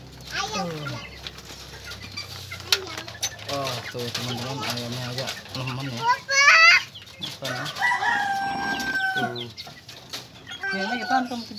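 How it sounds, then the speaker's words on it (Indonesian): Chickens cluck and a rooster crows close by in a farmyard where they are being fed banana stem feed, with irregular bursts of clucking and crowing mixed with people talking nearby. "Ayam ini, Pak."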